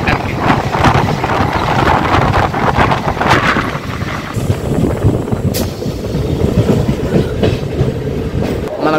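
MEMU passenger train crossing the Godavari bridge near Rajahmundry, heard from on board: loud rumbling wheels with rhythmic clickety-clack, heavy rolling noise and some wind buffeting on the microphone.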